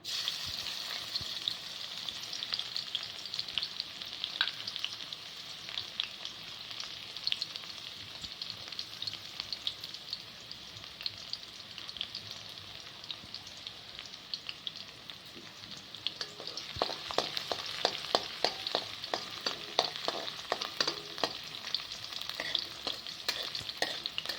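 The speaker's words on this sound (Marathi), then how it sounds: "तेल गरम झालं आता आपण लसूण टाकूया" Garlic sizzles in hot oil in a pan for a Maharashtrian wild-greens (kurdu) bhaji with onion and hing, a steady crackling fry that grows denser and more popping toward the end, with no talking.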